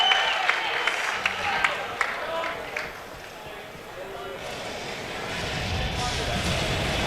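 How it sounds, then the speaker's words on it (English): A crowd at a Dallas esports gaming event cheers and roars, swelling into broad noise under an announcer's loud voice. "crowd, if you're liking what you're seeing right now, let me hear some noise from Dallas"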